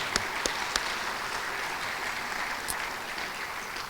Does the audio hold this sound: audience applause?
yes